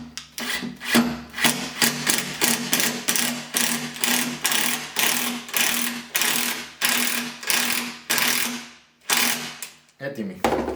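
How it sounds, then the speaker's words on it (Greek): A cordless screwdriver drives wood screws to join pieces of wood, giving a loud, steady run of rapid rhythmic ratcheting bursts, close up, with a brief pause near the end before one more short burst. "Όταν αρχίζει και κάνει αυτό το γκρακ το κατσαβίδι, σημαίνει ότι έχουμε σφίξει αρκετά."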